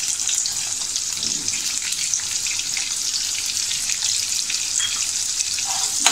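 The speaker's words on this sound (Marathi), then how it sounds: "आपली राई थोडी तडतडली की आपण त्याच्यामध्ये हा फोडणीला बारीक चिरलेला कांदा" Finely chopped onion sizzling in hot oil with crackling mustard seeds for a tempering, a bright steady frying hiss close up, with no talking.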